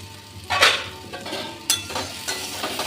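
Diced pumpkin frying in a pan with salt and turmeric, a steady sizzle under a scraping stir that starts sharply about half a second in, with another stir partway through and no voices.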